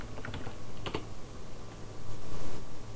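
Computer keyboard typing while entering data into a Microsoft Access table, a quick run of clicky keystrokes up close with short pauses, no talking.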